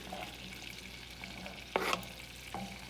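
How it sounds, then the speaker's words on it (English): Finely chopped onion tipped into melted butter in a pan for chicken pot pie, a steady close sizzle with a sharp burst of frying as it lands and a brief stir, no talking. "And it's already finely chopped, so I'm just adding this into the butter."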